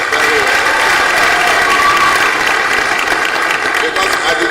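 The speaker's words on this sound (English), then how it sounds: "Please give him a round of applause." Loud, steady applause fills a large hall during a university matriculation ceremony, a continuous dense roar of clapping with some crowd noise and no break.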